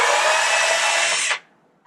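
A cordless electric screwdriver whirs steadily for over a second while fitting out a Sprinter van kitchen, then cuts off abruptly, leaving a quiet room.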